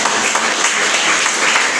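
A church congregation breaks into loud, thick applause for the Lord during a sermon, a continuous wash of many hands clapping close by without any voices over it.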